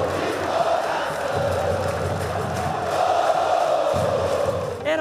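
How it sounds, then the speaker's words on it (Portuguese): A large crowd of Santa Cruz fans fills the Arruda stadium in Recife with a loud, continuous roar of chanting and cheering during a Pernambucano 2024 match. "a torcida encheu o Arruda e viu o estádio pulsar de novo"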